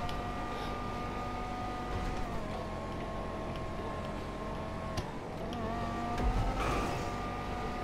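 A woody-looking race car in Grand Theft Auto V drives with a steady engine drone whose pitch shifts up and down as it accelerates and eases off, with other car noise and a louder rumble near the end.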